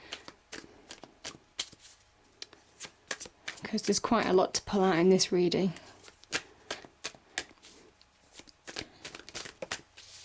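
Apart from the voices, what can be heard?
shuffling tarot cards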